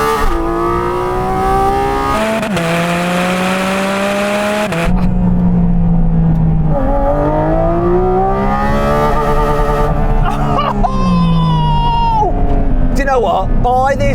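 A Porsche GT4 RS engine revs hard toward its 9,000 RPM redline, a loud, rising engine note that climbs in pitch and changes character near the top, with a brief lift and rerev midway.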